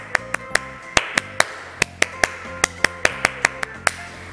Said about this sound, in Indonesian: kita tepuk pramuka dulu ya